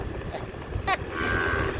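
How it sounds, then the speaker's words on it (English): A cow lows once, briefly and at moderate distance, in a rural backcountry setting in Cambodia, under steady low outdoor background rumble. "Oh, the cow said hello. Did you hear that?"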